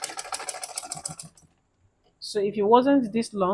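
A sewing machine runs in a fast, steady stitching burst as a dress is sewn, stops briefly, then someone talks.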